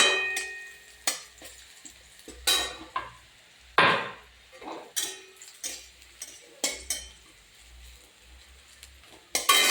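Curry being poured into a pan with garlic while cooking spinach with puti fish, a loud sizzling burst followed by intermittent clatter and stirring taps, no voices.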